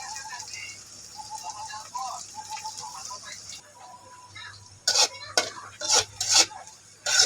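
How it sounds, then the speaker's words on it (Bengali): Onion and garlic fry in a pan as a utensil stirs them. Soft sizzling and scraping give way to a burst of loud metallic clatters and scrapes near the end. "পেঁয়াজ রসুনটা সুন্দর করে ভাজা হয়ে গেছে"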